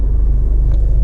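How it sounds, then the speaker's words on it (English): The clutch of a Stage 2 MK7 Golf R shudders, a close, loud, pulsing low rumble that throbs steadily throughout. "that was the clutch shuddering away"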